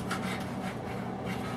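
A knife saws through the thin end of a cooked steak, giving a soft, steady rubbing and rasping scrape with faint rhythmic strokes, quiet and close, with no talk.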